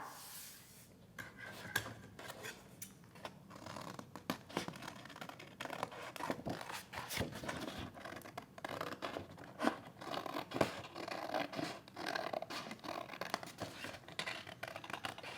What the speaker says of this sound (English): you want to go ahead and cut around your hat.